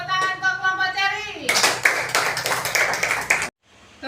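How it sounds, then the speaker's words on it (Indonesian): Students in a primary-school class clap together for a group, a loud burst of dense hand claps that starts abruptly after an earlier stretch of tonal sound and then cuts off sharply. "Tepuk tangan untuk kelompok ceri."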